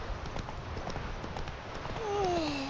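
Geralt's horse Roach gallops in The Witcher 3, with a steady rapid clip-clop of hooves running throughout at close range and a brief tonal sweep near the end.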